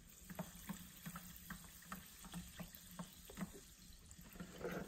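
Sparkling San Benedetto mineral water stirred in a container: faint, rhythmic swishing and clinking strokes with a fizzy, crackling hiss beneath, quiet and close.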